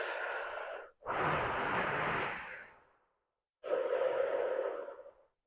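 Breathing during a hip and lower back stretching exercise: a long, audible, airy exhale and inhale, a pause of silence, then another strong breath, close and alone.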